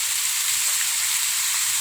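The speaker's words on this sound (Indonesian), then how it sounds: "Selanjutnya kita masukkan ini tahu yang kita goreng tadi ya." Fried tofu drops into a hot pan and sizzles steadily, a bright continuous frying hiss close to the microphone, with no talking.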